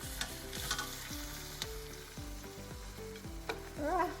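Shrimp sizzling steadily in a hot pan, a continuous close frying hiss punctuated by repeated clinks and taps of a utensil against the pan as pieces are placed in a ring.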